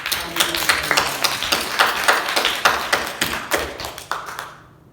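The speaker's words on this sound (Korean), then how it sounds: "우리 이 시간 하나님께 감사합니다 하면서 감사의 박수 우리 하나님께 올리겠습니다" A church congregation at a Sunday service claps together in thanks, a dense run of brisk hand claps that fades out at the end.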